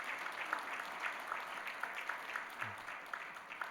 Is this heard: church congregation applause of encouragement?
yes